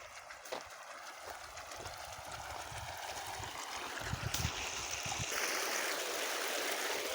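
Irrigation water runs steadily into a channel in a wheat field, a continuous outdoor rush and trickle with a few faint knocks, swelling slightly louder toward the end.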